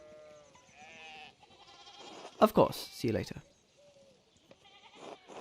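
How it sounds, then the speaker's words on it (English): Sheep in the video game Pentiment bleat in a couple of loud, close, wavering calls in the middle of the clip, with game dialogue voices before and after. "we need to get these sheep under control"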